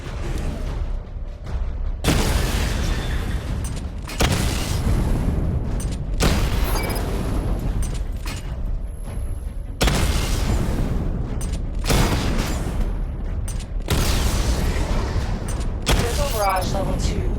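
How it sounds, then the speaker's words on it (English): Missile barrage explosions in a Batman video game: loud, dense rumbling blasts arrive in rapid waves about every two seconds, with crackling debris and mechanical game sounds between them. "Charge the missile barrage to level 2 to destroy up to 4 targets at once."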